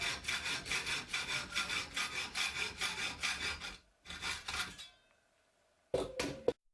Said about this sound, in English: Cut the star bolts to length.